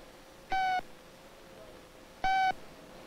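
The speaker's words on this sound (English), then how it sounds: "Every beep means an error." Two short, clear electronic error beeps from a 1960s memory-test device with buttons and lights, spaced about two seconds apart over a quiet room background.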